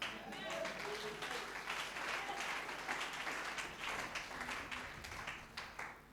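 A church congregation claps and applauds steadily for several seconds during a night worship service, a dense wash of hand claps with scattered voices mixed in.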